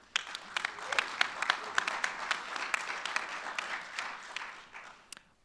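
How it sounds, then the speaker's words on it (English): Audience applause at a sustainability and affordable housing session, a dense steady wash of many hands clapping at moderate volume, sustained for several seconds before tapering off. "Please, a round of applause for Becky."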